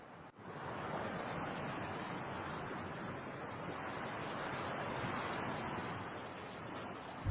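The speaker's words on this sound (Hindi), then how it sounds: "अपनी आंखें बंद कर समुंदर की लहरों को सुनकर मुझे शांति मिलती है।" Ocean waves washing onto a shore, a steady, dense roar of surf with gentle swells, fairly close and continuous with no voices.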